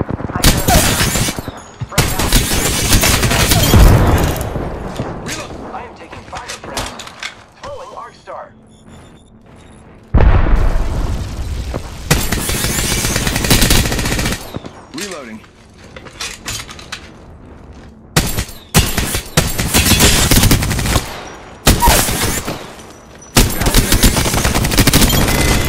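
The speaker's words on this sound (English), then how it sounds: "Shots fired, and they're hitting me." Gunfire in Apex Legends: repeated loud bursts of automatic fire and single shots, close by, broken by brief quiet gaps, with voices speaking in between.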